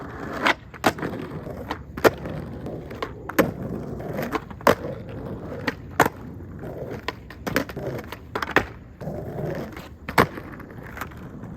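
Skateboard wheels rolling on pavement, punctuated by sharp board slaps and clacks from repeated kickflip attempts in Adidas Centennial 85 Low ADV skate shoes, at moderate distance with no talking.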